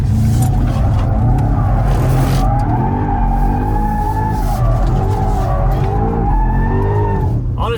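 A heavily laden BMW M5 G90 slides through a drift on a tight road, its engine droning loud and close as the tires squeal and skid in long, wavering screeches.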